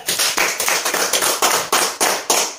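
An audience at a prize draw bursts into loud, close applause, its quick steady claps coming in rhythmic surges throughout, with no talking.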